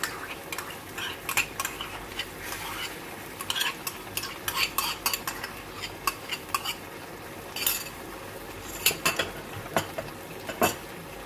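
A spoon stirs chicken curry with browned onions and yogurt in a pot, scraping and clinking against the metal in close, irregular strokes over a steady low sizzle, with no talking.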